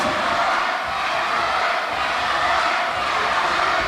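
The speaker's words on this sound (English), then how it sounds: "Listen to this crowd." Wrestling crowd at an Irish Whip Wrestling show roaring and cheering steadily, a loud, dense wash of voices filling the whole stretch without a break.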